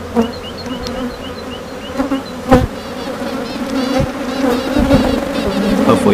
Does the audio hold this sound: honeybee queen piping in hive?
yes